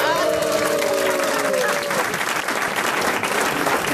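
An audience claps and cheers in a loud burst of applause, with voices talking over it before it thins out.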